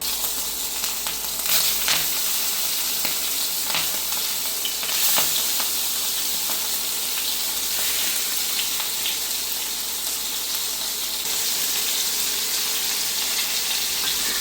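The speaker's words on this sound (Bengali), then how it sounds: "চিংড়ি মাছ চুলার তেল গরম হয়ে গেছে, এখন আমি দিয়ে দেবো" Prawns dropped into hot oil sizzle loudly and steadily in a pan, a continuous bright frying hiss with scattered pops and light scrapes from stirring, no voices.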